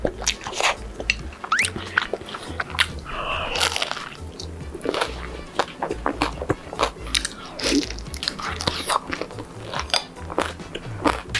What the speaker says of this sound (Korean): 고구마 튀김 달달하고 바삭해서 좋네요